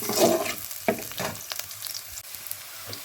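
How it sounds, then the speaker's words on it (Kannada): Onions frying in a pan for banana masala dosa, with a brief burst of sizzling and stirring at the start, then a few sparse scrapes and a low hiss fading quieter; close, no talking. "ಚೆನ್ನಾಗಿ ಹುರ್ಕೊಳ್ಬೇಕು ಈರುಳ್ಳಿ ಚೆನ್ನಾಗಿ ಫ್ರೈ ಬಂದ್ರೇ ದೋಸೆ ತುಂಬ ಚೆನ್ನಾಗಿರ್ಬೋದು"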